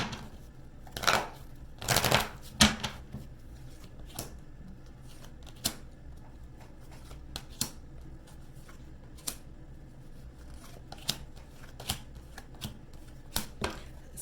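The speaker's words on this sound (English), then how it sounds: "I'm going to pull from my deck and shuffle it right in front of you." Tarot cards are shuffled by hand in a quiet room, a series of sharp riffling bursts and soft taps scattered across the clip, close and fairly faint, with no talk.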